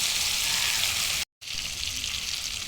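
Potatoes sautéing with salt, chili and turmeric powder in a pan give a steady close hiss of frying, broken once by a short silent cut before the sizzle resumes.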